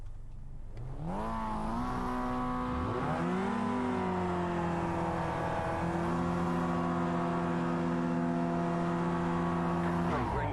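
A race car engine in the iRacing sim racing game revs hard and holds a loud, steady high-pitched drone, with gear changes shifting the pitch up and down through the run.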